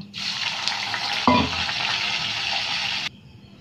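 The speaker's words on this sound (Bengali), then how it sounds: "এবার আমি চিংড়ি মাছগুলো ভেজে নেব।" Prawns fry in a pan with a steady, close, hissing sizzle lasting about three seconds, broken by a brief clatter partway through before the sound cuts off abruptly.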